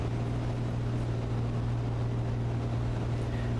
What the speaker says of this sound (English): You can hear the engine as I'm starving it